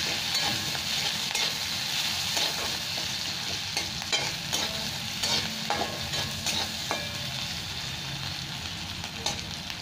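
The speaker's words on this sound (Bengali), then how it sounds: "পেঁয়াজটা একটু ভেজে নেবো লাল লাল করে।" Onions fry in oil in a pan, a continuous close sizzle broken by repeated scraping and stirring strokes throughout.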